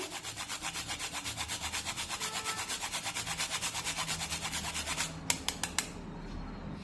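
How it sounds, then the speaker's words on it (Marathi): Nutmeg is grated for a sweet jaggery dish, a fast rhythmic scraping of about thirty quick strokes, close and fairly quiet, ending with a few sharp taps and no talking. "थोडंसं जायफळ सुद्धा किसून घालूया, कारण गुळाचा पदार्थ आहे।"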